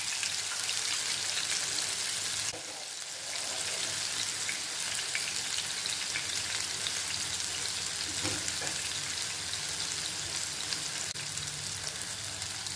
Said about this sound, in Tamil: அதை ஸ்லோ ஃப்ளேமில் இதை ஃப்ரை பண்ணி எடுத்துடலாம்